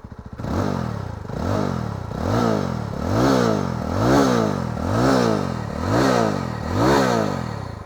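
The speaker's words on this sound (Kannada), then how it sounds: "ಎಕ್ಸಾಸ್ಟ್ ನೋಟ್ ಮಾತ್ರ ತುಂಬಾ ಲೌಡ್ ಇದೆ" A Yezdi Roadster motorcycle engine revs repeatedly in a steady rhythm, its loud exhaust note rising and falling about once a second, close by.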